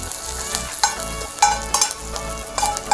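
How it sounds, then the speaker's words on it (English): Chili stir-fries in a pan for sweet and sour fish, a close steady sizzle broken by several sharp scrapes and taps of the spatula. "We'll just stir fry this one until everything turns soft."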